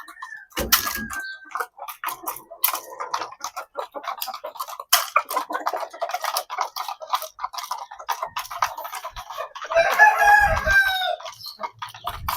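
A flock of straight-comb chickens is given a little feed, scattered clucks and light pecking ticks mixing at moderate distance, with a rooster crowing clearly near the end.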